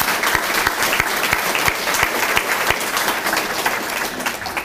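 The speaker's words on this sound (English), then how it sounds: "Let's give the PTOs a round of applause." Loud, dense applause from a banquet audience for school PTO members, sustained clapping with a few sharp individual claps standing out, no talking.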